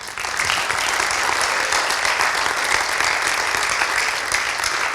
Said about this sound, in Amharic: ለኢየሱስ አጨብጭቡ በጌታ።